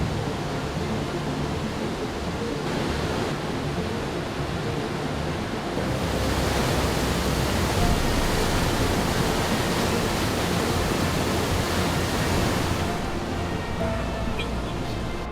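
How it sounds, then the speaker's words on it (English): Steady broadband roar of Regard Falls along the Cassiar Highway in British Columbia, a continuous rushing water wash that swells slightly louder midway as if approached more closely. "Let's go check out this waterfall."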